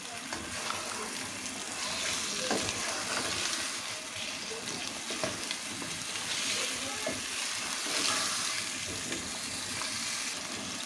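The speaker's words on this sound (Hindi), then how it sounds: "मैंने इसको अच्छे से चम्मच हिला के मिक्स कर दिया है" A spoon stirs potatoes and tomatoes into a meat curry in a hot pan, giving a steady sizzle with scraping and clinks throughout, under faint background noise.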